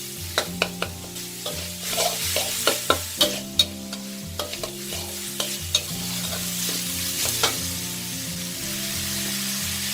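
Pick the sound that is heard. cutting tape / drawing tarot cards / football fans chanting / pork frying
pork frying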